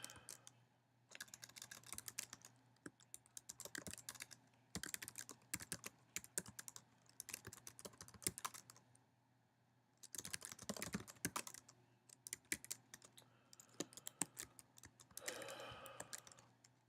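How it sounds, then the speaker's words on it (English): Commands typed on a computer keyboard in quick bursts of soft clicking keystrokes separated by short pauses, close and fairly quiet. "So I'll type in these commands."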